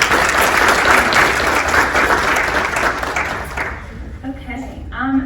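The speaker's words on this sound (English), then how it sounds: "A round of applause" An audience round of applause at a leadership event, dense and loud for about four seconds before tapering off as a voice begins speaking.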